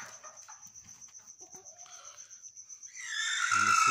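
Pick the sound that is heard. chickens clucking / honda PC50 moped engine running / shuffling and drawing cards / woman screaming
chickens clucking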